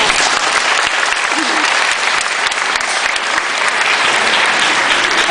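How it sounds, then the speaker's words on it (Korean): Loud, sustained applause from a large audience at a school admissions information session, dense and steady clapping filling the whole stretch. "큰 박수로 좀 맞이해주세요."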